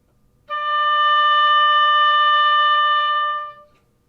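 A single sustained reedy oboe note played with a half hole, bright and steady, held about three seconds before tapering off, played alone with no talking.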